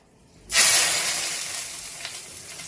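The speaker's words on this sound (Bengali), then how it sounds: "ছোকার আওয়াজটা ফোড়নের আওয়াজটা খুব ভালো লাগে" Spices for a fish curry hit hot oil with a sudden loud sizzle that starts abruptly and then settles into a steady, slowly fading hiss of frying, close up and with no talk.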